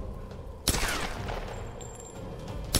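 Gunfire in the video game Tomb Raider: a loud burst of shots opens a sustained, reverberant rattle of fire that carries for about two seconds before another sharp blast at the end.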